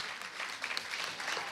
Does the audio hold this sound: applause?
yes